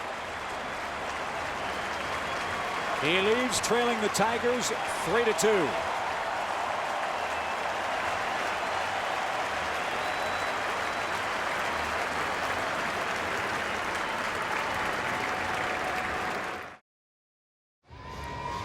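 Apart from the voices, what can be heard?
baseball crowd applauding at the Metrodome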